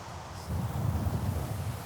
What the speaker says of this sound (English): It's windy, isn't it? It's blowing hard.